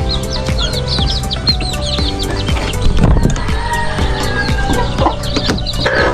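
Chickens cluck and a rooster calls in a Filipino backyard poultry yard where ducks and turkeys are also kept, with steady overlapping clucks and chirps throughout at close range.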